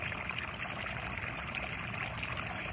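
Water from a fountain trickles and splashes in a continuous, even wash with no voices over it.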